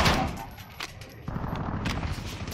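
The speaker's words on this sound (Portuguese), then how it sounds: "Eu tô dando mais tiro do que o normal" Rapid gunfire bursts ring out in Call of Duty Modern Warfare, sharp repeated shots in quick clusters mixed with game noise, loud and close.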